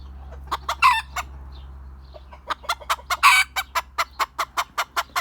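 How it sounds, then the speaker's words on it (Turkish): A rooster of a native Turkish breed crows twice, loud and close, amid rapid rhythmic clucking and sharp repeated calls from nearby fowl. "ben size bunu göstermek istedim ötecek mi diye bakıyorum"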